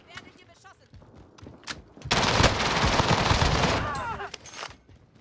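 Gunfire in a video game: after a few scattered shots, a loud sustained automatic burst lasting about two seconds, then it tapers off. Someone speaks briefly around the firing.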